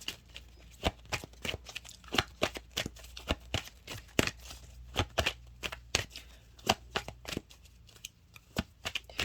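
A deck of numerology cards is shuffled over and over, giving a string of sharp riffling snaps and soft card slaps in an uneven but steady rhythm. The sound is close and clear, with no talking.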